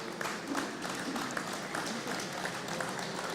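An audience applauds panelists at an agricultural farm show career event: a short burst of steady clapping from a moderate crowd, dense and even throughout, with a voice faintly underneath.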